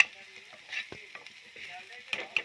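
Food sizzles and fries steadily in a hot pan with a spoon scraping through it, giving soft bursts and a few clinks against the metal, heard close throughout.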